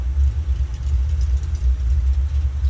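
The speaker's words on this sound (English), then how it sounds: "I can hear my neighbor's race car firing up." A neighbor's race car engine starting up nearby, a loud continuous low rumble that holds steady throughout, with no voices.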